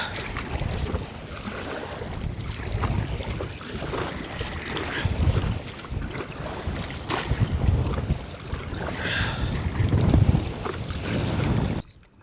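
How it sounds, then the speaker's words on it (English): Heavy wind buffeting the microphone while paddling an NRS Kuda 106 inflatable fishing kayak on open water, continuous gusty roar with water splashes and paddle strokes, close and loud throughout. "trying to paddle this in heavy winds is very difficult"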